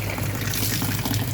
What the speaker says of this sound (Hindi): बस ये आखिरी है, इसे निचोड़ देती हूँ।